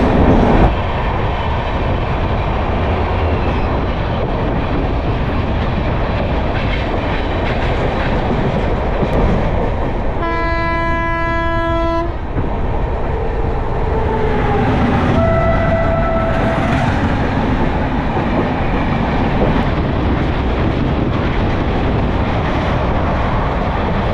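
The Tamralipta Express from Howrah to Digha rolls along with a loud, continuous rumble and rattle of wagons, heard from on board, and a sustained horn blast sounds partway through, followed by a shorter tonal whine.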